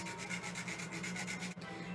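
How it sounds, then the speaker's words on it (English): Whole nutmeg scraped against a grater in a kitchen, a close, fast run of rhythmic rasping strokes with one brief pause near the end, no talking. "I'm going to scrape as much of the nutmeg in here as I can"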